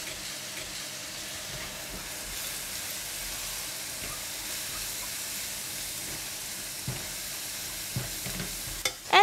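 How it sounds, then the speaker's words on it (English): Clams being stirred in a wok with curry powder, sugar and thick soy sauce for a spicy kam heong stir fry, a low continuous sizzle with occasional soft scrapes and a louder clatter at the end, no voices. "Give it a mix until well combined."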